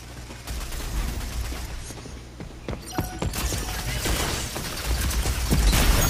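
Rapid gunfire in the shooter game Rogue Company strikes the player character, with sharp bursts of shots over continuous background game noise that grows louder toward the end.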